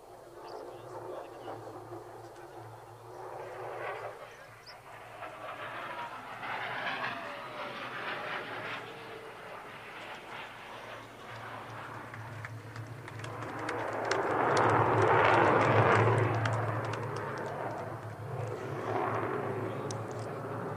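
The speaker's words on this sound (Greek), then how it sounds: "το F-16 και το τριπλό ρολ." An F-16 fighter jet flies a triple roll at an air show, its engine roar rising and falling at a distance, swelling loudest near the end over steady crowd and wind noise.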